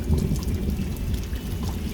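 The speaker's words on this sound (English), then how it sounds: "He got water from the muddy puddle with the little water gun and squirted" Muddy puddle water squirted from a little toy water gun on a rainy day, a close splashy, trickling spray that runs steadily for a couple of seconds without speech.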